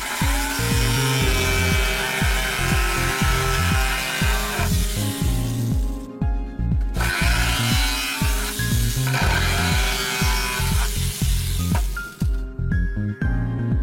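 A power saw cuts through wood in steady, loud bursts, pausing briefly twice before resuming, with rhythmic pulsing throughout.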